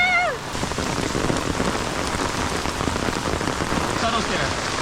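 Heavy rain pours down in a dense, steady patter close by in Tamarindo, Costa Rica, with a brief voice and a faint call at the start.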